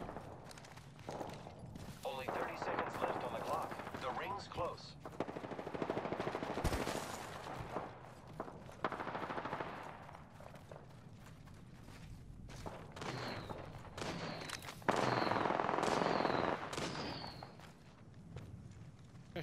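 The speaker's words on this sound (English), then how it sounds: "Shooting." Gunfire in the Apex Legends video game comes as bursts of rapid shots and scattered reports over constant game noise and footsteps, with bright blips from the interface.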